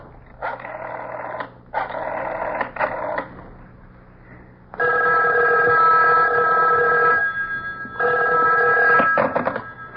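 An old-style telephone bell rings in a 1970s CBS radio mystery drama, sounding in loud repeated bursts with short pauses, then a long continuous ring, all close and without speech.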